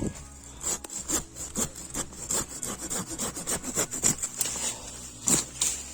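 A 33 cm hand garden saw cuts through wood in steady, rhythmic back-and-forth strokes, each pass a close, rasping bite with no talking.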